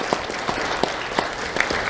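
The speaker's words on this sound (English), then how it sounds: "Let's have a round of applause for Lieutenant Gonzalez." Applause from a ceremony audience at a police awards event honoring a school safety lieutenant, a steady wash of many hands with sharper claps poking through across the short clip.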